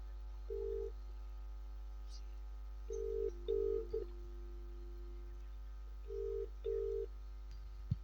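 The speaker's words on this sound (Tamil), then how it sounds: "எங்கே ஃபோன் அடிக்குது" A mobile phone rings during a church Christmas candle night skit, with short paired electronic tones repeating in bursts, moderately loud over a steady low hum.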